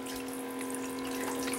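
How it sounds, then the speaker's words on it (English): Water runs from a tap to fill a bath for a six-month-old baby boy, a steady close hiss with faint tonal hum and no talking. "and he's taking a bath."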